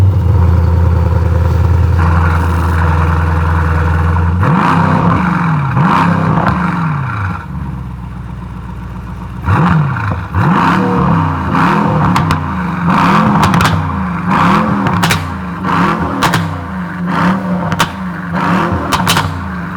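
A Brabus 800 Mercedes S-Class V8 starts up and idles before being revved repeatedly in short, sharp bursts, loud and close, with a pause between rev sequences.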